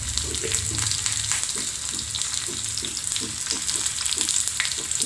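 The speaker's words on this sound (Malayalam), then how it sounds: "പച്ചമഞ്ഞളും ഒന്ന് മൂത്ത് വരുമ്പോഴത്തേക്ക് 2-3 ഉണക്കമുളകും കറിവേപ്പിലയും കൂടി ഇട്ട് കൊടുക്കുക." Dry red chillies and curry leaves fry in hot oil with fresh turmeric for a sambar tempering, giving a steady close sizzle with light crackle and rhythmic scraping of a spoon stirring the pan.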